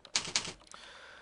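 Keys clatter on a computer keyboard while a speaker's name is entered into a shopping cart admin panel: a quick burst of close, crisp clicks, two heavier clusters, then a few lighter taps trailing off.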